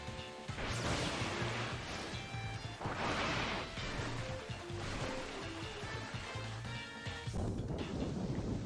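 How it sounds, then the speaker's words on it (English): Thunder crashing over the open sea in the video game Pokemon Moon, a steady loud roar of rumbling storm and surf under a looping game music melody, continuous throughout. "Thunder crashed over the open sea."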